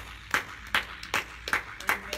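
Sparse, half-hearted clapping from a Bible study audience, about six separate claps spaced unevenly, close and fairly soft over a low background hum.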